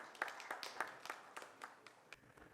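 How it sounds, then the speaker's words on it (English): Light, fairly faint audience clapping at an education leadership summit, a handful of separate hand claps at an uneven rhythm, thinning out toward the end. "A huge round of applause for him."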